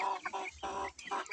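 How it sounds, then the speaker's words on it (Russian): A two-month-old black Liven marbled rooster clucks in a short run of close, harmonic calls with brief pauses between them, alone and without talk. "Вот такой черный петушок."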